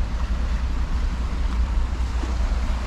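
Sea waves come in at the shore along a promenade at Larne with boats out on the water, heard as a steady broadband rush of surf mixed with wind buffeting the microphone and no voices.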